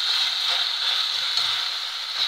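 Ackee and pepper pork frying in a pan for an ackee wrap, giving a steady, close, loud sizzle with no talk over it.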